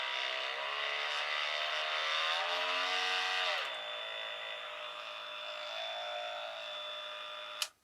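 A JCB 18V oscillating multi-tool runs with a steady, harmonic-rich buzz that rises in pitch as its speed is turned up, then settles at a lower hum before cutting off with a brief click at the end.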